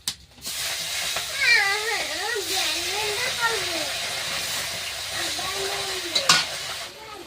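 Small bata fish frying in a pan give a steady, moderate sizzle and hiss, while a voice talks over it, with a sharp clatter near the end.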